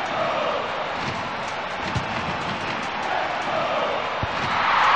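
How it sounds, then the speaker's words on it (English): Stadium crowd in the FIFA 97 football game on PS1 roaring in appreciation of a goal, a continuous loud wash of cheering with a few thuds underneath, swelling slightly toward the end. "And the crowd really showing their appreciation for that goal by Reuter."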